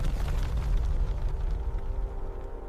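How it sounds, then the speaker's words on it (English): A deep, rumbling explosion with sustained low-end roar and crackling debris, loud and continuous throughout. "they trigger massive explosions."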